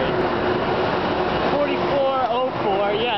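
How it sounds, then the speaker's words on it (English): Late deadhead train 6343 passes nearby with a steady, loud rumble and rattle, while someone talks over it. "This is, I think, late deadhead train"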